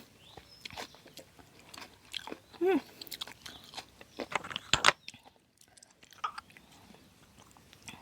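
Crunchy apple snails are bitten and chewed close to the mic in a run of sharp crackling bites and wet munching, with brief pauses and some quiet talk in between.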